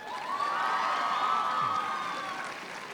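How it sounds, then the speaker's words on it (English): A school valedictory audience applauds for a student named Akansha, a sustained wash of clapping and cheering with a few shouts rising and holding steady, then easing slightly toward the end. "Can you just clap for another 7 seconds for Akansha?"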